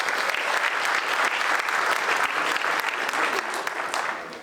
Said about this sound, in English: Maybe give Respect in Sport a round of applause for that.